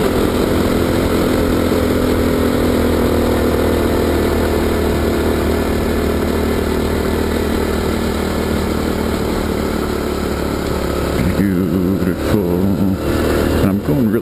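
Honda CT110 small-displacement motorcycle putting along a dirt road in hilly, tree-covered country, its steady low engine drone continuous and close throughout, with a rider's voice talking over it toward the end.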